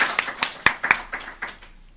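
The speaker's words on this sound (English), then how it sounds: "Please join me in a round of applause for our contest winners" A few scattered hand claps from an audience greeting contest winners at a fiscal policy keynote event, sparse and uneven, fading out within a couple of seconds.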